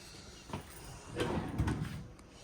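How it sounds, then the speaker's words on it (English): Magnet-latched cupboard doors in a 2023 Forest River Salem Hemisphere Elite 35RE RV kitchen, a few soft clicks and light thumps of the doors pulling free and swinging open, close and quiet. "you do have 2 magnet latched doors that open up into a rather large cupboard"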